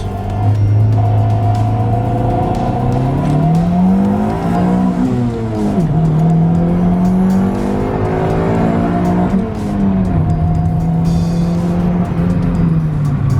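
A turbocharged Honda D16 two-door car accelerates under low boost, its engine note climbing steadily through the gears with brief dips at each shift, loud and close throughout.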